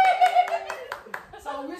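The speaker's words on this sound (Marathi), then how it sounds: "टाळ्या." Several people clap their hands in short, quick bursts during a family road trip to Shirdi, the clapping overlapping with lively talk and a voice.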